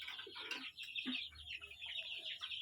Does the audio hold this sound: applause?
no